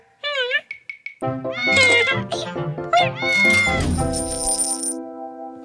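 A cartoon cat piggy bank meows in a high, sing-song voice over a bright children's-show music bed, then a coin drops with a clear clink followed by chiming notes.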